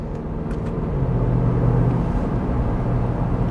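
A 2022 Range Rover Sport SVR Ultimate Edition accelerates hard in a straight line, its engine a loud, steady deep rumble from inside the cabin, rising slightly with road roar.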